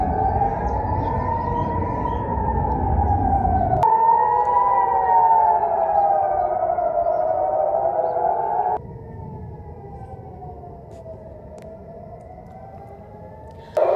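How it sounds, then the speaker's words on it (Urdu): Air raid warning sirens wail across Israel during an Iranian retaliatory attack, with several overlapping rising and falling tones sounding loud and sustained and shifting in pitch as they cycle. "اسرائیل میں خطرے کے سائرن بج اٹھے ہیں"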